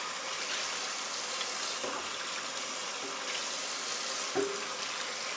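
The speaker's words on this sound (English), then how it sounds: "That is hot water." Hot water runs steadily from a tap, a constant broadband hiss of flow with a couple of brief clunks partway through, loud and close, with no talking.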